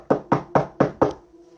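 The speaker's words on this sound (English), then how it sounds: "knocking on wood" Five sharp knocks on wood in a steady, even rhythm, close and fairly loud, followed by a faint hum once the knocking stops.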